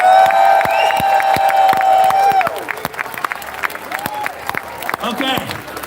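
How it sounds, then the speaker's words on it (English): Outdoor freedom rally crowd applauding and cheering, loud sustained whoops and shouts over dense clapping, then sharper scattered claps and cries as the cheering thins out. "Give all the groups a round of applause."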